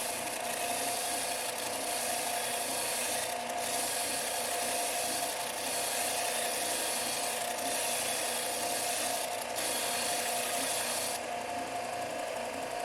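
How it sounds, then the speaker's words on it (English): Sandpaper rubs against the end of a wooden dowel in a steady, close scratching hiss with faint rhythmic strokes, heard alone without talk. "I'll sand the end to make it nice and smooth"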